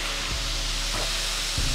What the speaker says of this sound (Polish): Gąska skwierczy